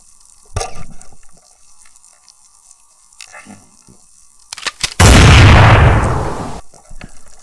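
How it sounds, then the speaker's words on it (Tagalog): Speargun shot fired underwater while spearfishing on a fish-rich reef, a sudden loud burst of noise that holds for about a second and a half and then fades, after quieter bubbling and small clicks. "Yun ay putok ng pana ni Joy Adventure."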